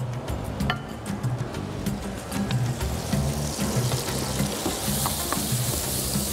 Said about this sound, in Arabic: بنحمر البصل الكرات والكرفس